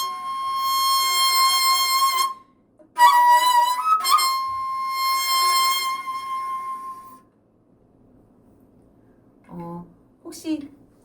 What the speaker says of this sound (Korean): 이 청의 울림이 조금 얇은 막에서 찢어지는 소리가 좀 나죠